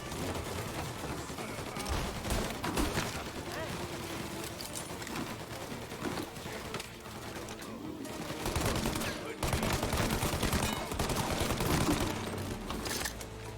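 A shootout in Mafia Definitive Edition, with repeated bursts of gunfire, sharp close shots and rapid volleys across the whole stretch, intensifying toward the end while a voice talks over the action.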